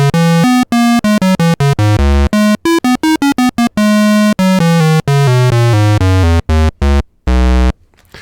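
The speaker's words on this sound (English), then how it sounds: "Just a pretty straightforward standard square wave." Square wave from oscillator 1 of a Korg ARP 2600M analog synthesizer, a loud buzzy hollow tone playing a quick run of separate notes at shifting pitches with short gaps, slight tuning drift, ending in a lower held note, no voice.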